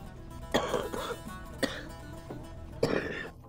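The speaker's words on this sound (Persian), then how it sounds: "سرفه نکن مادر بزرگ، صبر کن برات آب بیارم." An elderly grandmother coughs in a dubbed drama film, three or four harsh, raspy coughs and throat-clearing bursts close by, spaced irregularly with brief pauses between them.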